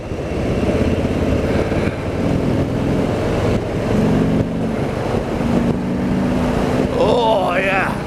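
A 2019 Harley-Davidson Softail Slim with the 107 engine rumbles steadily while riding through town, its low engine note constant under heavy wind buffeting, with a shifting tone near the end.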